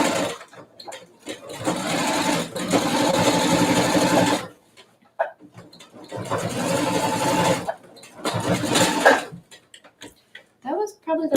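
A sewing machine stitches the bulky hem of ultra high-waisted jeans in rapid, loud whirring bursts of several seconds, stopping and restarting between runs, with a person talking in the gaps.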